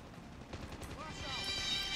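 Gunfire from Call of Duty Mobile comes as a burst of rapid shots mixed with game effects, while a player talks over them.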